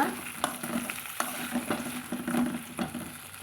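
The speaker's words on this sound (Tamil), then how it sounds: "கத்திரிக்காய் போட்டு வதக்கலாங்க வதக்கி விட்டுக்கலாங்க" Chopped brinjal sautéed in oil in a pan for a traditional brinjal curry, stirred with repeated scraping and knocking strokes over a soft, continuous sizzle, close up.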